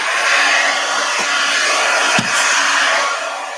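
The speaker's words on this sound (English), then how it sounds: "Sorry about the noise with the heat gun" A heat gun blows with a steady, loud airy whoosh at close range, interrupted by a couple of brief knocks.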